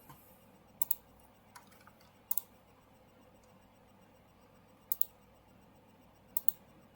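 Keyboard shortcuts typed in a terminal for a Docker Swarm and Traefik setup, with sparse clicky key presses, often in quick pairs, over a quiet background hum.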